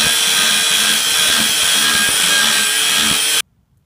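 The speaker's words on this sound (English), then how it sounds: "Now I got to hit these lines with the grinder." Angle grinder grinding the edges of a metal batarang, a loud continuous abrasive roar for a few seconds that cuts off abruptly, with no voices.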